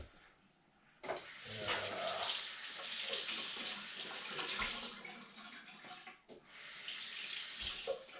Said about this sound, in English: Let me wash my hands or something.